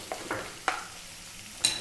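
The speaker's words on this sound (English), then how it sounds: "what we're going to do is drop in our 1 cup of onion," Finely chopped onion hits hot oil in a pan for a vegetable curry, giving a few quick, close sizzling bursts and scraping stirs over a quiet background.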